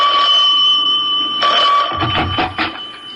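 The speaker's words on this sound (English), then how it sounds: "I was barely settled into my mother's house when the phone rang." Telephone ringing in an old radio drama: a loud electric ring held steady for about two seconds, then clattering and shuffling as it breaks off.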